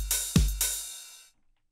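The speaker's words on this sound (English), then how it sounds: "Alright, so now we have our basic drum beat." Basic techno drum beat programmed in Cubase's Groove Agent, a short pattern of three hits with a deep kick in the middle and bright percussive strikes around it, ending in a quick decay to silence.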